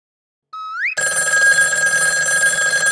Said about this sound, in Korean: 도깨비한테 전화 왔다.